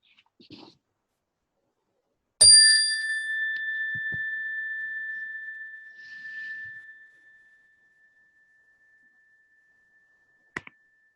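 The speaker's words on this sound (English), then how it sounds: "We will close this practice at the sound of the chime." A meditation chime rings out once, clear and bright, its pure tone sustaining and slowly fading over several seconds in near silence, with a faint tap at the end.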